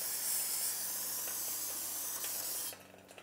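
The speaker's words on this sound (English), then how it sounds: "I'm gonna use some parts cleaner" Parts cleaner sprayed onto a rusty brake hub of a Toyota 4Runner, a steady close aerosol hiss lasting nearly three seconds before cutting off abruptly.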